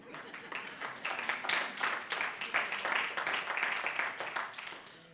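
An audience applauds at a French inspirational talk, steady clapping swelling and holding at a moderate distance for a few seconds.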